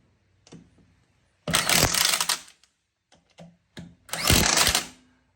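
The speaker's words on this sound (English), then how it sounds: "17 millimeter impact socket with an impact wrench. I'm just gonna snug these lugs up real quick" Impact wrench with a 17 mm socket snugging the lug nuts on an ATV wheel, two loud buzzing bursts of about a second each separated by short clicks and pauses, close by.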